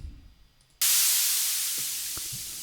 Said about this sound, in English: Bit of white noise.